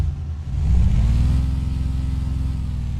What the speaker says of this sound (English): Now let's turn the truck on and see how we go.